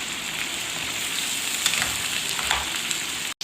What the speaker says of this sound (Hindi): अब इस स्टेज पे आके हम इसके अंदर अपनी कलेजी डालेंगे और इस कलेजी को फ्राई करेंगे इस ऑयल के अंदर